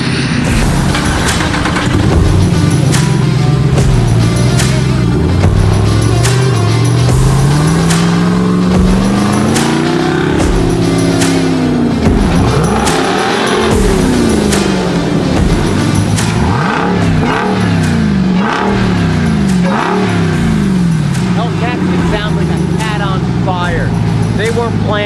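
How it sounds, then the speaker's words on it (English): A Jeep Wrangler swapped with a Hemi Hellcat 6.2-liter V8 revs and accelerates on the road, its deep engine note rising and falling through repeated loud pulls and gear changes, heard close and continuous. "Let's leave you watching me drive this thing and just listen how good that engine sounds."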